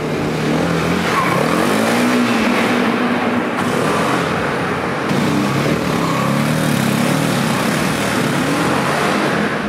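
The engine of a Piaggio MP3 300 HPE three-wheel scooter revs and accelerates steadily, its pitch rising and falling as it pulls away, loud and close with no talking.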